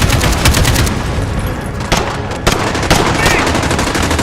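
Rapid automatic weapon fire crackles in the video game Call of Duty Modern Warfare, a loud, dense burst of shots with a heavier blast midway, ongoing against battle noise.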